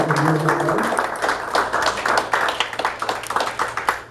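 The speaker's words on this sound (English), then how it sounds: "Y'all give them a round of applause." An audience at a pageant claps for the judges, a loud, dense stretch of applause filling the room with steady overlapping hand claps that carry on without letup from start to finish.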